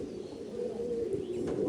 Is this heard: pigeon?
yes